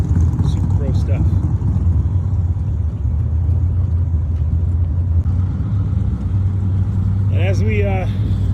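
A drag race car's engine idles and warms up with a deep, steady rumble, loud and close, while a voice talks over it intermittently.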